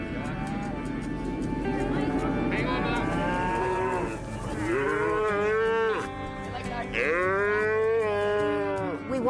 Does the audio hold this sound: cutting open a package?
no